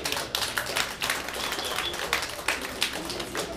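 Concert audience applause from a live show, a steady dense wash of many hands clapping heard from within the hall, with no talk.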